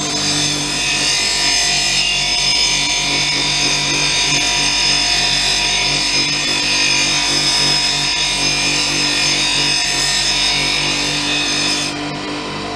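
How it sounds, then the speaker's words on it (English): A drill fitted with grinding pads shapes stone, a steady, loud power tool whine with gritty grinding texture running continuously, close up, with no talking. "finish it off on me drill with the grinding pads"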